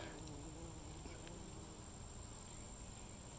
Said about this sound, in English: Look at this, covered in bees.